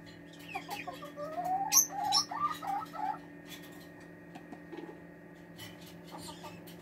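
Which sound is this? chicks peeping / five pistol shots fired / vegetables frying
chicks peeping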